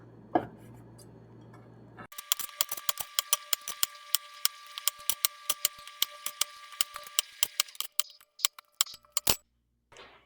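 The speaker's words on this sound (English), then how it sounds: "Cut each mushroom into 2 pieces." Mushrooms are sliced on a cutting board in a kitchen, a brisk run of sharp knife taps that fall in a fairly steady rhythm, loud and close, with no talking over them.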